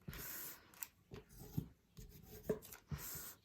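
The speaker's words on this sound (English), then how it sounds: "now I want to mash all those with the scissors handle to make sure I have really solid creases" A scissors handle is pressed and rubbed along folded paper to sharpen creases, giving short dry scraping strokes in an uneven rhythm, close and fairly quiet, with brief pauses between passes.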